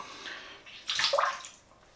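Boiling water from a hot water bottle splashes into a shaving bowl holding a teaspoon of soap, a short close gurgling pour that swells in the middle and fades.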